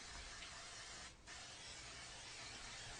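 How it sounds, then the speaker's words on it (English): Pam cooking spray sprayed into a pan on a stove turned to high, a short hissing burst standing clearly above steady kitchen background noise. "I like to spray some Pam."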